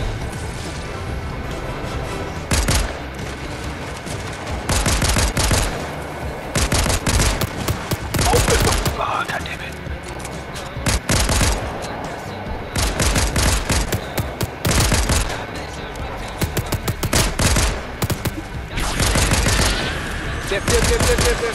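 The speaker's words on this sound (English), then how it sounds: "there's shots like right in front of us" Fortnite gunfire, with repeated bursts of rapid automatic shots and single cracks echoing loudly across the match, mixed with other game sounds and speech.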